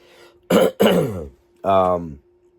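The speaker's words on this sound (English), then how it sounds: "I'm so sorry, bro, about the coughing." Two quick harsh coughs close to the microphone, then a short throat-clearing sound, over a faint steady background hum.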